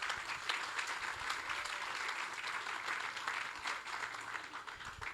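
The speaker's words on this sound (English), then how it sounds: "let's give them a big round of applause" Warm, steady audience applause rolls through a hall at a construction hall of fame ceremony, soft and continuous with dense clapping and no talk over it.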